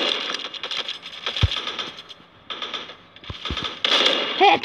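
Gunfire in the mobile shooter Forward Assault comes as several sharp cracks and short bursts amid clattering game effects, moderately loud, with brief quieter gaps.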